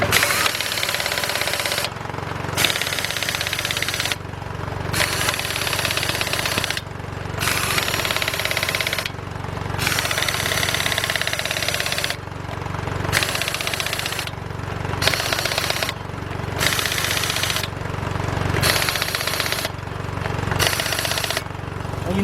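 A Craftsman 16882 impact wrench tightens the front wheel lug nuts on a 2010 Dodge Ram 1500 pickup, with repeated loud, rattling bursts of hammering separated by short pauses over a steady background engine-like hum, without talk.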